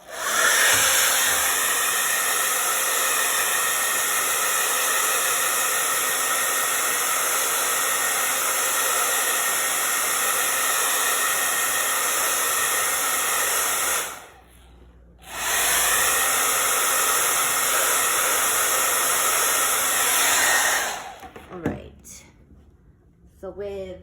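A hair dryer blowing wet paint dry on a painted craft, a loud steady whooshing hiss that runs for about fourteen seconds, cuts out briefly, then resumes before switching off near the end.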